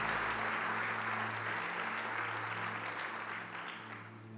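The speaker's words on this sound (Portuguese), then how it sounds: "dê a Jesus uma linda salva de palmas" Church congregation applauding during a worship service, a faint, distant wash of many hands clapping over a low steady hum that gradually fades.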